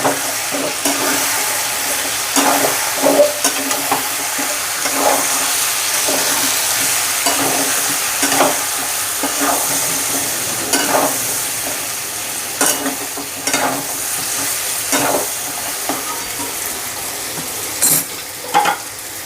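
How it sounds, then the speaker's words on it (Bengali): Chicken and potato curry with chicken masala sizzling and frying in a pan while being stirred, with repeated scraping strokes of a spoon over a steady close hiss, no talking. "এবার এটাকে নেড়ে দেবো"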